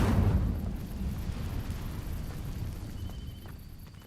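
An Incendio fire spell in Hogwarts Legacy ignites dry vines with a loud, sudden burst, then settles into a steady roaring, crackling burn that slowly fades over a few seconds.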